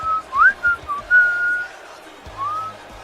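A person whistles a short, wavering tune of a few notes, close by, with breathy pauses and a brief sliding note near the end over faint background noise.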